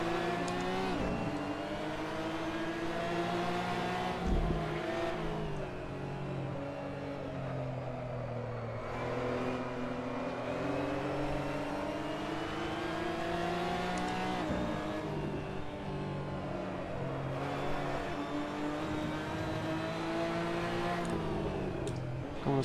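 Porsche Cayman GT4 Clubsport racing in Assetto Corsa, engine note climbing and dropping through gear changes in a steady, loud, continuous drone with rising harmonic sweeps, several shifts over the run, no talk.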